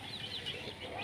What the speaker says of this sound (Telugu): నార్మల్ రంగురంగు కోళ్ళు